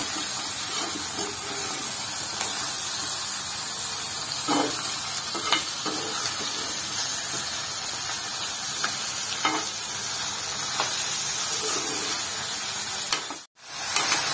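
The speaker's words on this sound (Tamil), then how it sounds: "நம்ம அரைச்சி வச்ச இந்த தக்காளி மசாலாவை போட்டுருவோம். கொஞ்சம் வதங்கணும்." Chicken sautéing in a pan with ground tomato masala for a honey chicken sukka fry, a steady close sizzle with occasional spoon scrapes and taps, continuous throughout.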